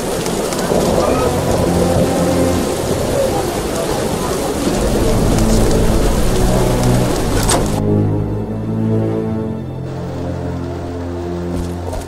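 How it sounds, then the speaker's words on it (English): Heavy rain pours down steadily in a video game, a dense hiss of drops with a low rumble underneath, the sound thinning and changing near the end. "What a downpour!"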